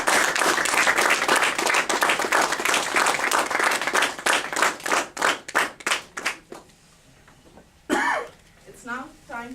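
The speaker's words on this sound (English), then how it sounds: "Please join me in a round of applause for your outgoing club" A room of club members at an officers' installation ceremony claps for the outgoing officers, loud dense applause that thins into scattered individual claps and dies out, followed by a cough and throat clearing.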